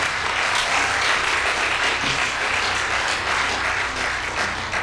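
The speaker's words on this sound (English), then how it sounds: "So we have to give a big round of applause to him." Continuous, full audience applause at a mridangam arangetram concert in honour of the accompanist, dense and even in loudness from start to finish.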